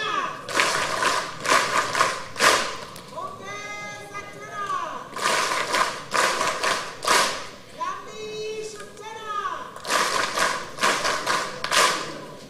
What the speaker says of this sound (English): thank you very sincerely with a thunderous hand clap